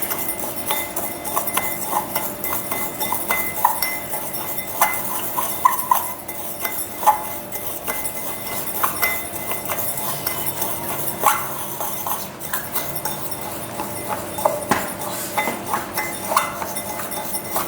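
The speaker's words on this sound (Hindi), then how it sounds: "इससे मिक्स करके देख लेते हैं" A metal spoon clinks repeatedly against a bowl while falooda premix is mixed, a steady run of close, light taps and scrapes.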